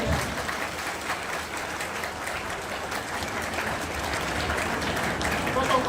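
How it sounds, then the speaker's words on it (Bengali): Crowd applause at a political government event, a steady wash of clapping from many hands lasting several seconds, heard from a distance at moderate volume. "খুব জোরে হাততালি চাই।"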